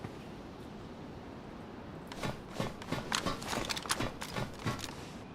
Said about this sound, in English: Thought I had an extra pair of footsteps there.